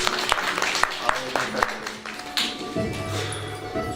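An audience claps at a live show, first as scattered sharp claps and then as fuller, steadier applause, moderately loud and close.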